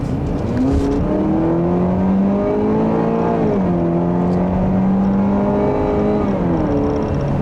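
A 2013 Chevrolet Malibu LT's 2.5-liter four-cylinder engine revs up steadily, pitch climbing, easing off briefly, then climbing again, loud and continuous from inside the car.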